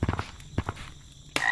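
Croaking of a frog in the VR game Gorilla Tag comes as a few short clustered croaks, then a pause and a couple more, followed by a brighter burst of noise at the end.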